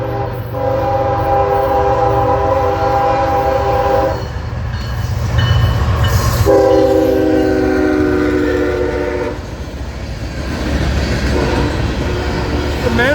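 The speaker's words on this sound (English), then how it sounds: "Alright, here comes our first train." A CSX southbound manifest freight train coming off the Waycross line at Folkston sounds its horn in several loud, long blasts over the heavy rumble and clatter of the passing cars.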